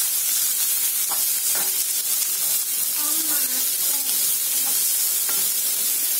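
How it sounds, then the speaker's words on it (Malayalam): Onions and small shallots with a little salt sautéed in a pan for a Kerala mushroom roast, a steady close hiss and sizzle with scattered light stirring scrapes, no talking. "സവാളയൊന്ന് നല്ലവണ്ണം വഴറ്റിയെടുക്കണം."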